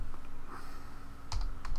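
Keystrokes on a computer keyboard while entering a password in an account sign-up form, a few soft clicks that turn into a denser burst of typing toward the end, close and quiet.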